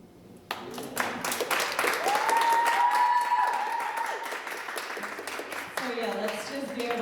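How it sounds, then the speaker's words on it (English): Moderate round of applause from an audience closing a talk on thriving, steady clapping with a tonal whistle-like sound and voices mixed in, easing off toward the end. "let's just give a round of applause"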